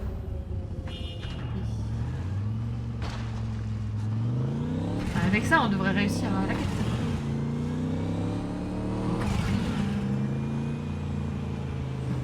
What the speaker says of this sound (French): je vais prendre une voiture cette fois